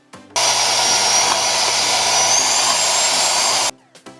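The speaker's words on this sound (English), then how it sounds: "Now I'm just getting my hand mixer ready to beat the whites until they make soft peaks." An electric hand mixer beats egg whites toward soft peaks for meringue, a loud steady motor whir running unbroken for about three seconds after a click on, then stopping with a couple of faint knocks.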